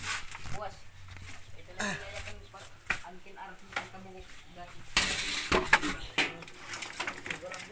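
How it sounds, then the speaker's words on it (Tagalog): A large cooking pot and utensils clank and knock in irregular bursts while tuway clams are prepared in rural Samar, with a louder clatter midway, while a person talks quietly in Filipino in the background. "Lalagay natin dito sa malaking kaldero para bumuka siya"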